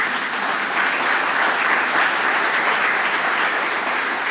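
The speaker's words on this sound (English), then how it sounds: "But if you just hold that applause" Audience applause for a gallery museum curator at an art awards opening ceremony, a dense, even roar of many people clapping that holds steady at full strength throughout, with no speech on top.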